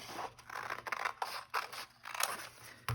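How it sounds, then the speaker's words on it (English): Scissors snip along the fold of a paper bag, a quick series of close, crisp cuts and slides with short pauses between strokes, no talking. "So I'm gonna get my scissors."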